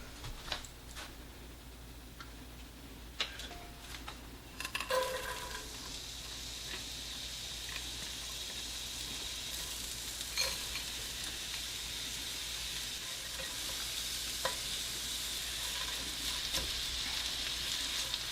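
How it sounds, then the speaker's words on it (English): Onions, peppers and jalapenos sizzle in olive oil in a pan, a soft steady frying hiss running throughout with a few sharp ticks and crackles, louder for a moment near the start. "And I'm going to put in a little bit of olive oil and add my onions, peppers,"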